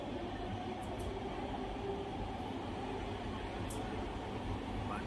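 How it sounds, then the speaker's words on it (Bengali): A Delhi metro train near the IGI airport line runs with a steady, continuous rumble and hiss, constant in level throughout, with no voices. "এটা মেট্রো এখন উপরে চলে আসবে"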